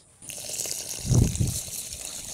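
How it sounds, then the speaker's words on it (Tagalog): Rice being washed in water at a motocamping site in Cavinti, with a short swishing, sloshing burst of water in the middle that rises and then settles, heard up close with no talking. "hugasan muna natin yung bigas"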